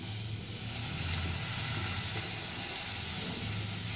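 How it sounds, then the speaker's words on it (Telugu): Fenugreek leaves hit hot cooking oil for a home-style fenugreek dal, giving a steady, broadband sizzle that hisses evenly throughout at moderate volume with no talking. "ఇప్పుడు మెంతాకు వేస్తున్నాను"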